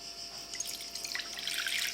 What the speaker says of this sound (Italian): Metto 150 g di acqua all'interno della terrina.